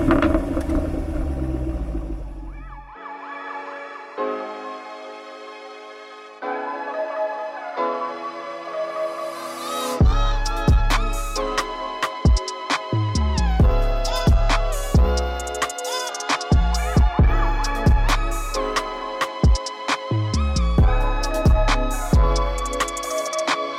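A Jaguar F-Type R all-wheel-drive sports car engine idles and then revs loudly and repeatedly, with sharp crackles and pops between throttle blips, heard up close with no speech.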